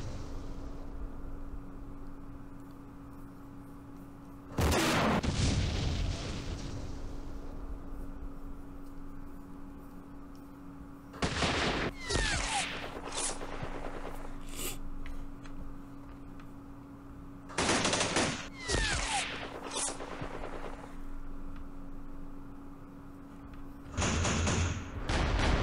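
Cannon and gunfire from the Campaign Series Middle East war game: four loud bursts of firing spaced several seconds apart, each with a sharp onset and a short decaying rumble, over a steady low hum.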